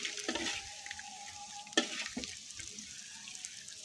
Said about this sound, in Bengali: এখন আমি ভাজে দেব, মাছটা ঢেলে নেব, এর ভিতর ঢেলে দিলাম